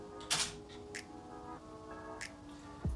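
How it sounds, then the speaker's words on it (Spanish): A camera shutter clicks while a photo is taken in a Lightroom tethered setup, sounding as a few quiet mechanical clicks spread over a few seconds, with one soft low thump at the end and no speech. "Y aquí tenemos el botón de captura, el obturador. Una vez le pulsemos, nos va a sacar la foto."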